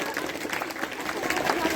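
An audience at a general knowledge competition event in a village near Mathura claps to welcome a guest, steady dense applause throughout with a voice speaking over it.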